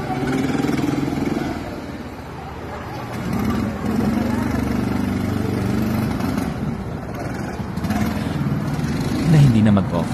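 A go-kart engine with a fault that keeps making it stop runs on a ride, giving a buzzing, rattling motor drone that dips briefly partway through and then returns. Voices talk over it.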